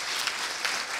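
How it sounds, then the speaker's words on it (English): Audience applause at an MS symposium expert panel, a steady dense wash of clapping from a seated crowd, moderately loud and continuous for about a second with no voices over it. "let's give him a round of applause"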